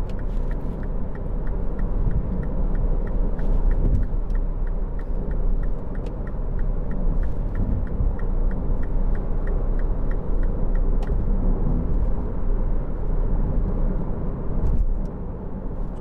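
Cabin of a 2009 MINI Clubman 1.6 Cooper on the road: a steady, loud low rumble of engine and tyres fills the whole stretch, with a faint regular ticking, like an indicator, over it and no talking.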